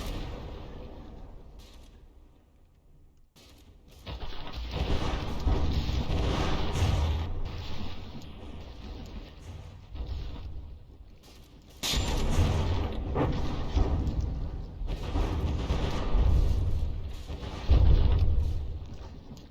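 A battleship in a naval video game takes a barrage of artillery shells, rolling booms and rumbling impacts in dense waves with short lulls between them.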